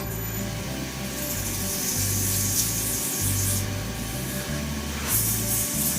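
Finer-grit sandpaper pressed lightly against a spinning woodturned hybrid shaving brush blank on a lathe, a steady rough hiss and rub over the lathe's hum, alone and close.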